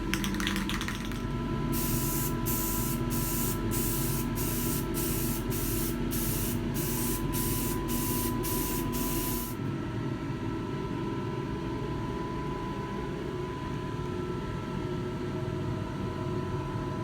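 Can of flat black spray paint hissing in a series of short bursts onto a truck dashboard from an F-150, about a dozen quick sprays under a low background rumble, then the spraying stops and only hum remains.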